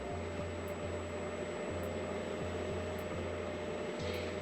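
Redmond 008 milk frother whirring steadily as it mixes hot chocolate, a constant low motor hum with a faint periodic pulse running alone throughout.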